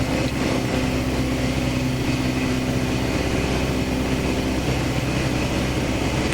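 Light aircraft engine of a Sport Cub flying a downwind leg with flaps partly extended, a steady loud drone with strong harmonic tones filling the whole stretch, no voices over it.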